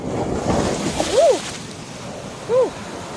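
Sea waves roll in quickly one after another at Akumal, Mexico, a close, continuous rushing wash of surf, with two short squeaky tones cutting through briefly.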